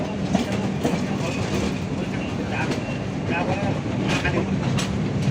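Electric train on the Chennai to Kolkata line rolls along steadily with a continuous rumble and intermittent rail clatter, heard from onboard at moderate loudness.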